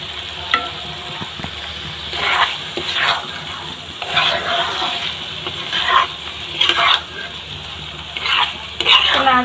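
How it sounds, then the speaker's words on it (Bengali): Okra and pointed gourd sizzle as they fry in a pan, with a spoon scraping and stirring in repeated bursts of a few strokes each over a steady crackle of hot oil. "নাড়াচাড়া করে নিচ্ছি।"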